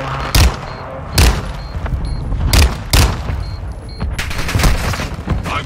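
Gunfire in Call of Duty: Modern Warfare II Warzone 2, a series of loud, heavy shots and booms about every second, close and punchy over busy game background noise.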